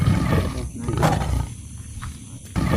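A white tiger lets out a loud, close, throaty roar that swells and fades within a couple of seconds, with some background noise around it.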